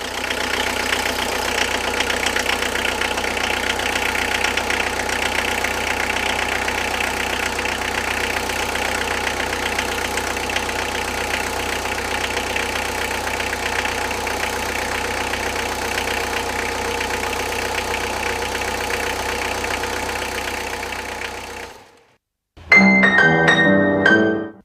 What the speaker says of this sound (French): mettons le moteur en route pour vérifier qu'il n'y ait pas de fuite